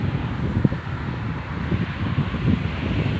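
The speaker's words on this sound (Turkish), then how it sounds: "Rüzgar da baya var. Sesi de fazla anlayamayabilirsiniz." Strong wind buffets the microphone in a constant low roar with gusty surges and a few thumps.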